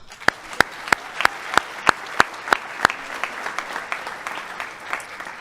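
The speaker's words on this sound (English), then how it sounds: "Big round of applause" Applause at a high school senior athletic awards ceremony for the athletes of the year. It begins as slow, sharp, evenly spaced claps and then fades into softer, scattered clapping.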